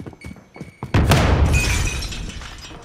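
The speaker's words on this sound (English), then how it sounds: "Grenade out!" A Semtex grenade explodes in the video game Call of Duty Warzone: a sudden loud blast with a shattering crack, then a rumbling tail, following some faint thumps and brief game noise.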